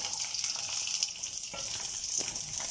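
Garlic cloves fry in oil for pickle, being sautéed toward golden brown, giving a continuous close bright sizzle with a couple of soft stirring scrapes.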